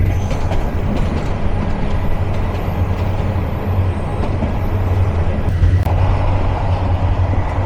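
The Karnaphuli commuter train on the Dhaka to Chittagong line runs with a continuous low rumble and steady rattling of wheels and carriages, heard loud and close from onboard without pause.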